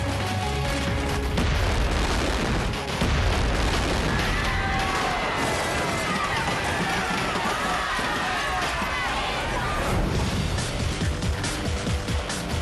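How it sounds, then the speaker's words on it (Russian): A 9-metre burning statue at a street festival explodes after a chain of firecrackers ignites it, heard as loud booms and crackling amid crowd noise and talk, with a rumbling roar continuing throughout. "Цепочка шутих поджигает статую, а спустя 4 секунды она взрывается."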